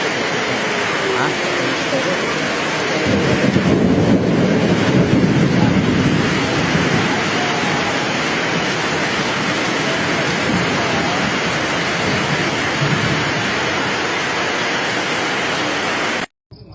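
Floodwater rushing in a sudden flash flood in Banyumas, Central Java, a loud, continuous broadband roar that swells briefly and then holds steady, with voices shouting faintly in the background.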